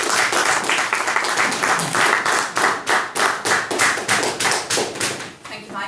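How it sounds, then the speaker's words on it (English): A room of Toastmasters club members gives a round of applause at an evening meeting, with steady, fairly close hand-clapping that turns into separate thinning claps toward the end. "I would ask for a large round of applause for Dominica"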